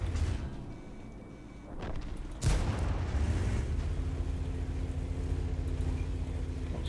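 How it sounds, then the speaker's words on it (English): Video game artillery fire: one heavy boom lands about midway, then a low rumbling roar lingers and keeps going behind other battle noise. "Nice artillery, thank you."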